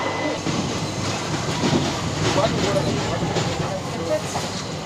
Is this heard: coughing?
no